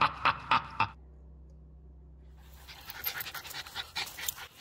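Dogs panting hard after overheating in summer heat: quick rhythmic bursts of loud, close breathy pants at first, then a pause and softer, scattered panting and rustling.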